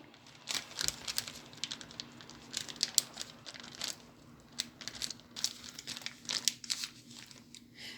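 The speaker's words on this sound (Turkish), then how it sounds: "Şimdi kilitli poşetimizin içerisine koyduk." A plastic zip-lock freezer bag crinkles and rustles in quick, irregular bursts while potatoes are bagged for freezing, close and fairly quiet with no talk.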